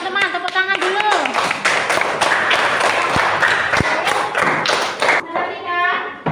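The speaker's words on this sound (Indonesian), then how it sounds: "tepuk tangan dulu" Children in a combined third- and fourth-grade classroom clap their hands in a loud, fast, rhythmic pattern of taps and claps, with young voices calling out at the start and the end.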